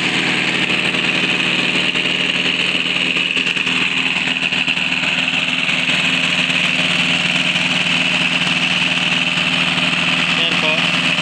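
A diesel generator with an electric starter runs at a farm river water pump setup, a loud, steady, unbroken engine drone throughout, close by and with no clear talk over it.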